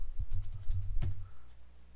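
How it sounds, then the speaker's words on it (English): Quick keystrokes on a computer keyboard while entering a grep command on a server, a short burst of soft close clicks with one sharper tap midway. "if I can type"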